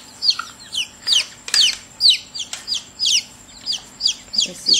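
Chickens cluck nearby in a steady run of short, repeated calls, several birds overlapping in rhythmic bursts with occasional sharper squawks.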